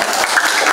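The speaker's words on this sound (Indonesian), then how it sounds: "Tepuk tangan dulu buat kita." A class of primary school pupils claps together, a brief, loud, continuous burst of hand claps filling the whole moment.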